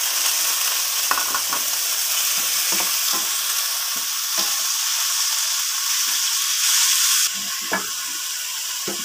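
Chicken sizzles and fries in a pan in a Filipino home kitchen, a dense continuous hiss broken by scraping stirs and clinks of the utensil.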